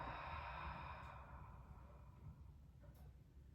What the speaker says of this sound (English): Slight snoring sound in the back of the throat, and then exhale.